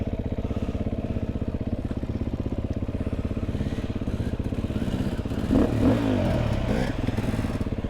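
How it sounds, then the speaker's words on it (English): KTM and BMW GS motorcycles stuck on a rough off-road trail rev hard, a close, rapid, pulsing engine drone with a sudden louder surge and clattering scrape near the end. "you got the KTM stuck. And now the GS is stuck."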